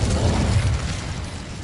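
Incendio fire spell cast in Hogwarts Legacy, a loud whooshing burst with a low rumbling roar that fades over a second or two, heard alone without talk.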